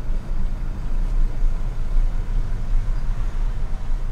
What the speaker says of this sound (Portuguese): Trânsito intenso aqui